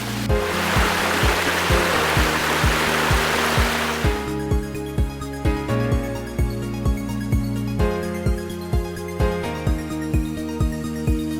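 Rushing water roars loudly for a few seconds under a steady, thumping music beat. The music carries on alone once the splashing fades.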